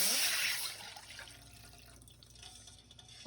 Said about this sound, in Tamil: 1 கப் தண்ணி ஊற்றணும்.